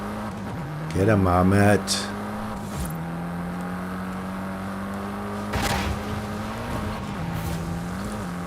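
Hoonigan RS-RX race car in a video game, its engine droning steadily with a sharp rising rev burst early on and another surge later, while people talk over the gameplay.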